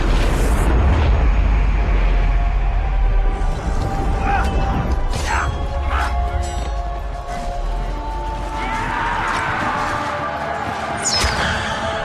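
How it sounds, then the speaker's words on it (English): The Archdemon dies in a fiery explosion in Dragon Age: Origins on PS3: a loud, deep rumbling boom that swells at the start and keeps roaring and crackling for several seconds under layered game effects. "So he died in an explosion"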